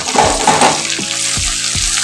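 Curry leaves frying in hot oil, a loud close sizzle with a few quick spoon knocks against the pan.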